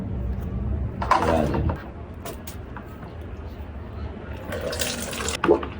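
Homemade dishwashing liquid is poured with a dipper through a funnel into plastic bottles, giving bursts of splashing, trickling liquid that come and go while a person talks nearby.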